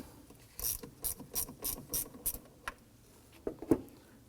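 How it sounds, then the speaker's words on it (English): A hand ratchet fitted with a 10mm socket loosens the ground terminal nut on a 2003-2014 Volvo XC90 3.2L, giving a run of quick, crisp clicks followed by a few louder, slower clicks, close up and alone. "Using our 10mm socket on our ratchet, let's go ahead and loosen this nut."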